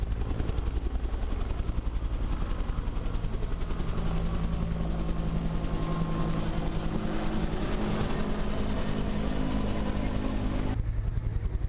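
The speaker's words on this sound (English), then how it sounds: "we're just near where the helicopters are landing" Loud, steady thudding of landing helicopter rotors in a town devastated by Typhoon Haiyan, a rapid rhythmic chop with engine whine, close by and continuous until it cuts off near the end.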